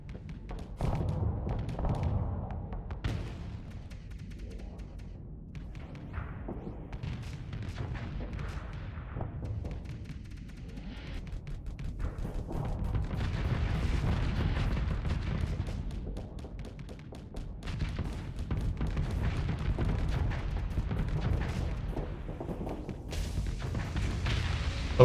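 Missile fire in the space combat game Starsector, a long run of heavy thumps and booming launches, some spaced and some overlapping into rumbling clusters, steady throughout.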